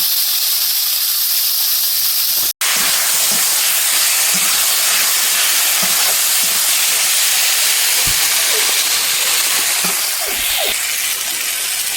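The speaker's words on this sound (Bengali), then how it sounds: "এবারে কিন্তু আমি আলু দিয়ে দেবো, এর মধ্যে দিয়ে কষিয়ে নেব।" Potatoes sizzle in a pan as they are sautéed in a ground ginger spice paste, a loud steady hiss with small crackles and pops, briefly cut once near the start.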